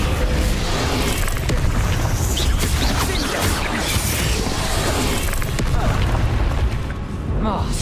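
Booming spell impacts from the Hogwarts Legacy video game, Descendo slams mixed with crashing debris and dense rumble, loud and continuous, with voices shouting spell names over the din.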